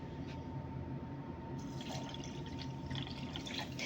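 Two glasses of water and orange blossom water poured over two glasses of sugar in a pan before heating into syrup: a steady splashing, trickling pour close by, continuous for a few seconds and growing a bit brighter partway through.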